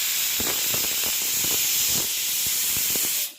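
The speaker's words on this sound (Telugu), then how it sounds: "చూస్తున్నారు కదా విజిల్ అయితే వచ్చేసింది" Steady, loud hiss of steam escaping from a pressure cooker of dry mutton curry on the stove, with faint clicks and rattles running beneath it for about three seconds before it cuts off sharply.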